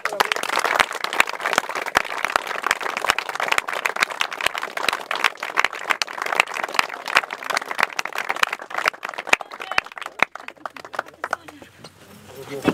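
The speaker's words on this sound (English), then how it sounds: "Give yourself a clap." Crowd applause at a charity carp fishing match, scattered sharp claps and a rattle of hands under an ongoing speaking voice, thinning out toward the end.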